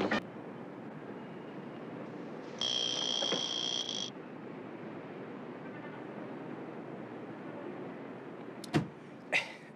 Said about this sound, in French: Et je voulais savoir si l'alarme fonctionnait.